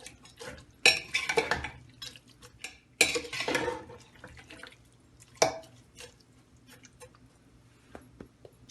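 A spoon mixes water, oil and spices in a pot of Hyderabadi daalcha. Sharp clatters of metal on metal come in a few separate bursts, with soft liquid stirring and quiet pauses between them, and nobody speaks.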